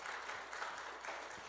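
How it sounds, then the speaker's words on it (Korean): A church congregation claps together in praise to God, a continuous, fairly quiet patter of many hands heard from a distance with no voices over it. "하나님께 영광의 박수를 한번 올려드리도록 하겠습니다"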